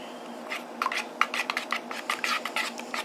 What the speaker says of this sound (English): I'm just going to stir it in.